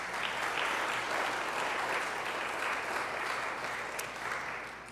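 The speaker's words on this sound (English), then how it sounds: "how about another round of applause for this fantastic band?" An outdoor concert crowd applauds a band, a steady wash of many hands clapping at full strength throughout, easing slightly toward the end with no talking over it.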